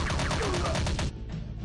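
Rapid gunfire in the video game Commando 2, a quick burst of repeated shots in an even rhythm lasting about a second, loud and close, then cutting off to a quieter tail.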